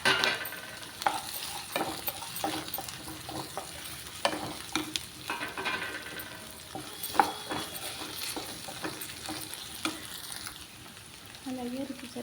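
Taro pieces and onions fry in oil with a constant close sizzle, while a utensil scrapes and knocks against the pan in frequent irregular stirs.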